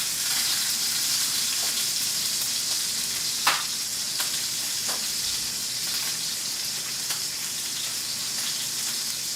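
A porterhouse steak sears in a hot pan, giving a loud, steady, broadband sizzle with scattered sharp pops and spits throughout, with no voices over it.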